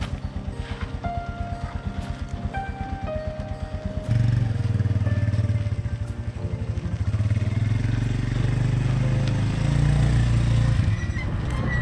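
A motorcycle idles with a steady low putter, then revs up and pulls away at about four seconds, its engine growing louder and rougher, with wind buffeting the microphone on a mountain road near Raikot Bridge in the Astore Valley.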